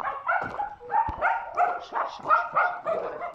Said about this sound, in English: So many dogs are barking.